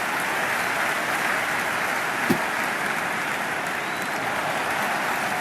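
Crowd noise from a cricket video game, India versus Australia, a dense steady roar of cheering and applause like rainfall, with one brief thump partway through, no speech.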